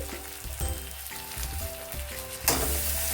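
Ginger-garlic paste fries with browned onions for a puti fish curry, giving a dense continuous sizzle close up with a low steady hum beneath it and a sharper burst of crackling near the end.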